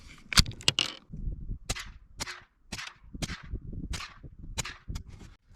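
A .22 LR rifle fires bulk-pack ammunition at an outdoor range, about seven sharp, loud cracks spaced roughly evenly under a second apart, with no talking.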